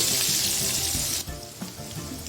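Onion fries in oil with asafoetida, mustard seeds, cumin and urad dal, a loud hissing sizzle that drops sharply halfway as if stirred or the heat shifts, then crackles on more softly, with no talking.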